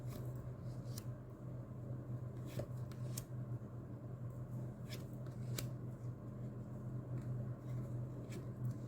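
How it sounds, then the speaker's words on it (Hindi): Tarot cards being shuffled, quiet riffling and snapping bursts repeating irregularly over a low steady hum, faint and close. "final shuffle"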